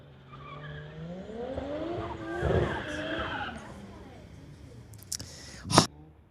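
A street-legal drag race start with a 2010 Audi, an engine revving and rising in pitch with tire squeal as the car launches, then fading, followed by a couple of sharp bangs; people talk over it.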